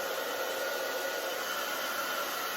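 A hair dryer on medium heat blows steadily while drying curly hair, a constant close whirring hiss with a faint high whine, unbroken and alone for the whole stretch.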